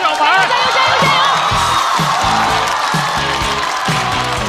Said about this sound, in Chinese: 掌声欢迎樊小白